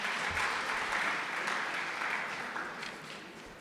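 A room of parents and community members at a school governing body meeting applauds the presenters, steady dense clapping holding at a moderate level for a few seconds and tapering slightly toward the end.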